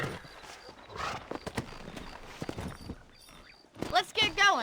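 Horse hooves clip-clop on the ground in the Western video game Red Dead Redemption, a loose run of close hoof beats with a whinny near the end and voices talking over it.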